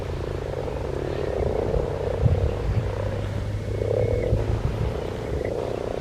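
A chorus of frogs croaks steadily at a pond during spawning, a dense, continuous throbbing of many overlapping calls nearby, holding at an even loudness for several seconds with no voices.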